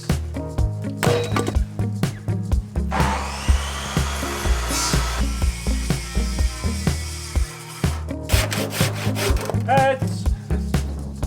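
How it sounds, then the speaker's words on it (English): Wooden rafter ends being cut on an old stone house renovation, with rapid rhythmic saw strokes and repeated woody knocks and clunks, close and loud, pausing briefly midway. "Meanwhile, Josh cut all the rafter ends"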